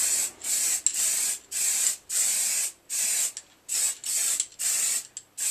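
Aerosol spray paint lays a top coat onto a Harley 883 Iron belly pan in a cold garage, heard as a series of close, loud hissing bursts, each about half a second, separated by short gaps.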